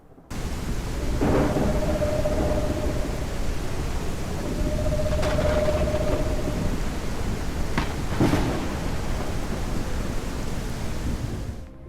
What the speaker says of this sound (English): as night fell, a storm was fast approaching